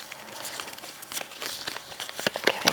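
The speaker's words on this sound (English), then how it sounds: "Giving a quick shuffle." A deck of playing cards given a quick shuffle, heard as crisp, crackling riffles and papery flutters that build into a denser burst near the end, close up and with no talking.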